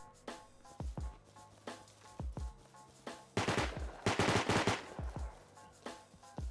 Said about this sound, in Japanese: 銃声してる